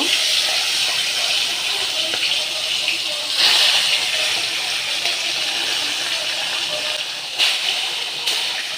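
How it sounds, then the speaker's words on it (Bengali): Katla fish pieces frying in hot oil, a loud continuous hiss and crackle close up, steady throughout with a few brief bursts of spatter. "দেখো, প্রথমে আমি মাছটাকে ভেজে নেব।"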